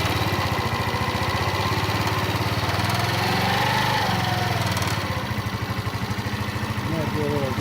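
Urban Tank scooter engine idling just after a carburetor replacement, a close, loud, steady puttering chug with a slight dip in pace toward the end.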